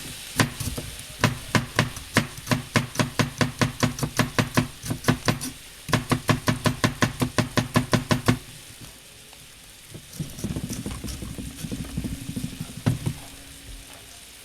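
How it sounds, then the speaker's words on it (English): Rapid, evenly spaced knife strokes chop on a board near the microphone, a pause and then another run of strokes, with a brief sizzle of butter and mushrooms frying in a pan near the end. "You're going to get a shallot"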